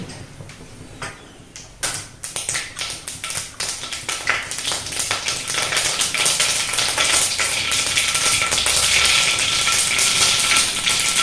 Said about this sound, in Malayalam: എണ്ണ മൂത്ത് കഴിഞ്ഞ് ഇനി കടുക് ഇടുക.